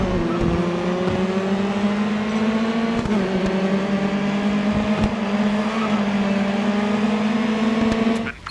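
Racing car engines in the video game Grid Autosport, a sustained high engine whine with slight pitch shifts as gears change, steady and loud with no talking.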